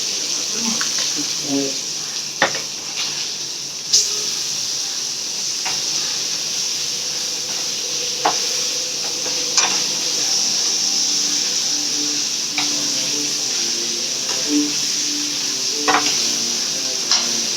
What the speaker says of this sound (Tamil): மீன் வறுக்குது.